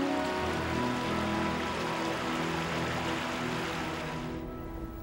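Palace stream water at Changgyeonggung runs steadily beneath the Okcheon bridge, a continuous close rushing wash with no voices, easing slightly in the final second.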